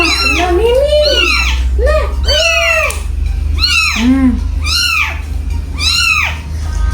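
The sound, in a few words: many cats meowing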